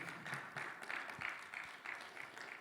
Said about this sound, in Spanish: Puede sentarse dándole un fuerte aplauso al Señor